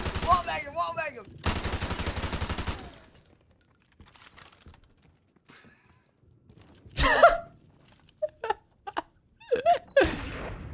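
Bursts of rapid gunfire in a first-person shooter match, a sustained volley early on followed by scattered sharp single shots and short clusters, with quiet gaps between.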